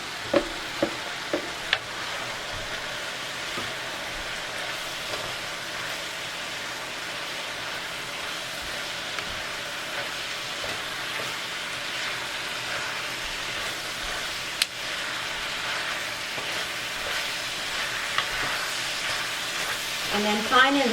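Minced meat with carrots and potatoes sizzles steadily in a pan for a shepherd's pie, a continuous crackling hiss with occasional sharp ticks of stirring utensils against the pan.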